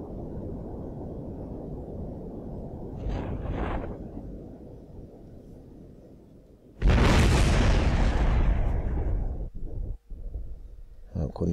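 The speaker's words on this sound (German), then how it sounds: "So, jetzt geht der wieder runter und explodiert da unten schön." A rocket in Kerbal Space Program crashes and explodes: a loud sudden boom bursts in midway after a quieter rumbling stretch and a brief earlier thump, then decays with lingering crackle and rumble.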